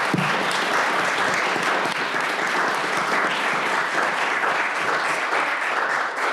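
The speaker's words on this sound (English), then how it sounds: "why don't we give them a big round of applause?" Alumni at a fireside chat burst into a big round of applause for the speakers, thick and close clapping from the whole room that holds steady throughout and tails off slightly at the end.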